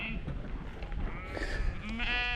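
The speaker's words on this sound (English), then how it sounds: "A lot of sheep." Sheep bleat nearby on open hillside pasture near Mam Tor in the Peak District, with a few wavering calls over steady wind noise, loud and close.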